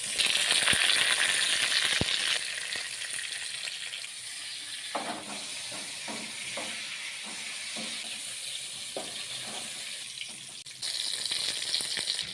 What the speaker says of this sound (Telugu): ఇలా చిమ్మచ్చిని నూనె వేసి మంచిగా ఫ్రై చేసుకోవాలి